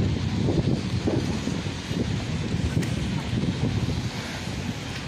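Strong storm wind in Dubai, with trees blown down, roars steadily and close as broadband gusting buffets the microphone throughout, with no clear voices.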